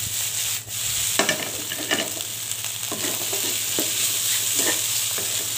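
Pineapple fried rice with spring onions being stir-fried over high heat, a steady sizzle of frying with repeated scraping strokes of the spatula against the pan, close and continuous.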